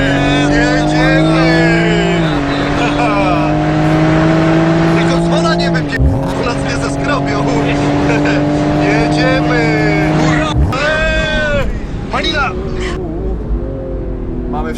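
A Toyota Supra and a Ford Mustang launch down a quarter-mile drag strip, loud roaring engines climbing through the gears with distinct shift drops, continuous and close throughout.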